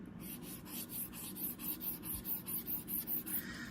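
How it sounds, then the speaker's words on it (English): A stylus scratches across the screen of an iFLYTEK AINOTE Air 2 note-taking tablet, a dry pencil-like rasp. It comes in rhythmic close strokes, roughly three per second, with no talk. "it actually sounds like a pencil as well when you're writing it"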